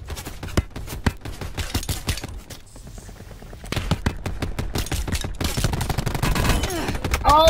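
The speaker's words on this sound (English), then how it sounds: "They're shooting from the right." Rapid bursts of video game shooter gunfire crack out repeatedly, close and loud, with scattered shots and sustained volleys filling the stretch and a denser flurry near the end.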